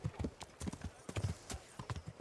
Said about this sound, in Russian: Чел лошадь тут.